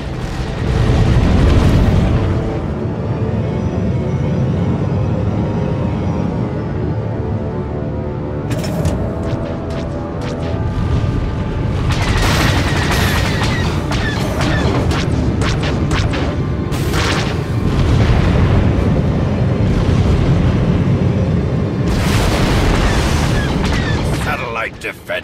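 Gunfire and explosions in a battle video game, a loud continuous barrage of booms, rumbling blasts and rapid shots layered densely, with voices talking over the chaos.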